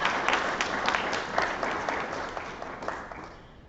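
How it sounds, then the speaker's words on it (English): A crowd applauds with dense, steady clapping that gradually fades over a few seconds. "Give her a round of applause"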